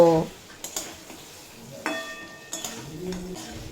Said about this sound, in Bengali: ভেজে রাখা সবজিগুলো দিয়ে মশলার সাথে আবারও দুই মিনিট মতো কষিয়ে নেব